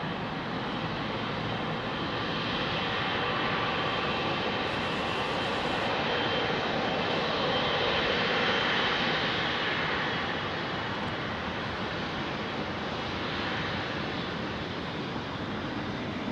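A Turkish Airlines Airbus A330 departing Heathrow runway 27R produces a sustained, loud jet roar, steady and broadband, building slightly toward the middle before easing off.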